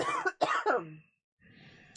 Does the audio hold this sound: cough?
yes